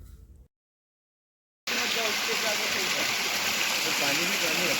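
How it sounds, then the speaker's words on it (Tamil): Stream water rushes steadily along a Kodaikanal trek, a loud, continuous broadband flow close by that starts after a short silence and carries on with no speech over it. "அப்போது இன்பிட்வீனில் பார்த்தது தாங்க இந்த வாட்டர் ஃப்ளோ"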